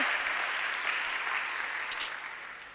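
A church congregation claps in a thick, continuous burst that slowly fades toward the end, with a few sharper individual claps near the close.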